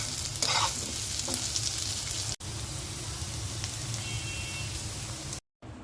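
Parboiled potatoes for biryani fry in hot oil with a steady, dense sizzle that continues throughout, briefly cutting out near the end.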